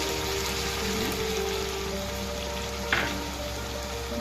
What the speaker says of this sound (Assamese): প্ৰায় মোৰ ফ্ৰাই কৰা হৈয়ে গৈছে